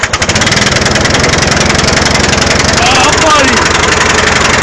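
A Craftsman lawn tractor engine idles on choke just after a cold start, a loud, close, uneven chugging with a rapid knocking pulse, while someone talks over it briefly.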